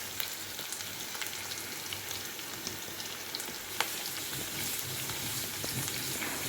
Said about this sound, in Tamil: இஞ்சி, பச்சை மிளகா, கருவேப்பிலை அனைத்தும் போட்டு ஒரு வதக்கிடுங்க